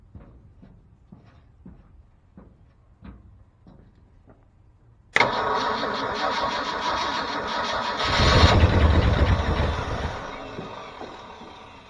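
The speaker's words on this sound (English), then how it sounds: "Give her a little snort of the good stuff and see if it'll start." An old dump truck's engine is started: a series of faint rhythmic cranking clicks gives way to a sudden catch, then a steady rough idle that swells louder as it revs briefly, close by.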